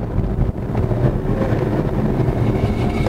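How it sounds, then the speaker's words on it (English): A 1969 Chevrolet Chevelle's engine drones in a loud, steady rumble from inside the moving car, heavy with road and wind noise and no clear shifts, with no talking. "Get around this corner here and we'll go through the gears again."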